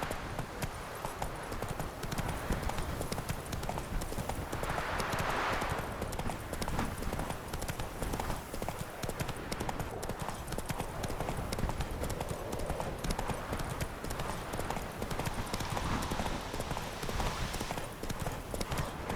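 Hooves of Roach, a horse in the video game Witcher 3, clip-clop in a steady galloping rhythm, loud and close throughout, with continuous outdoor ambience under the hoofbeats.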